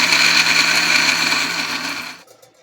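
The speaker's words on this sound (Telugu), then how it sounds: "నానిన తర్వాత వాటిని బరకగా మిక్సీ పట్టుకోవాలి" An electric mixer grinder coarsely grinds soaked chickpeas and cowpeas with a loud, steady whirring whine close up, which winds down and cuts off near the end.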